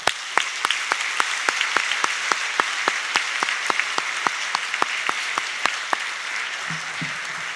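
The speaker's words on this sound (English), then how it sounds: "Let's give one more round of applause to Brooke Gladstone." At a Wichita State University convocation, an audience claps for Brooke Gladstone, with sharp evenly spaced claps over a softer spread of applause, fading near the end.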